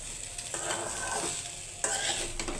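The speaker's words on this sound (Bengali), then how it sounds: "এগুলা ডিম দিয়ে এখন এই যে ভাজি করে খেয়ে নেব" Leftover rice fried with egg in a pan, with a steady frying hiss and occasional stirring scrapes that swell in two bursts, close and moderately loud, with no talking.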